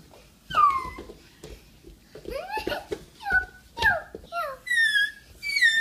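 Two stray dogs make several high, sliding whimpers and whines in short bursts, close by, growing more frequent toward the end, with no talking.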